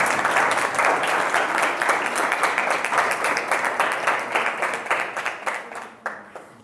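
Students at a school quiz competition applaud together for several seconds, a dense, steady clapping that thins out and fades near the end.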